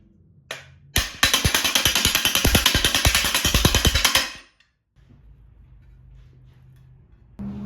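Loud, rapid metallic hammering on BBS RC090 car wheel parts pounds in a fast, even burst for about three seconds, preceded by a single knock and followed by quiet.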